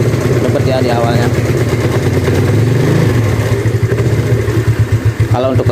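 A Yamaha Mio scooter with a faulty, stuttering carburettor runs loudly up close, its engine idling and revving unevenly with a rough, sputtering note while someone talks over it.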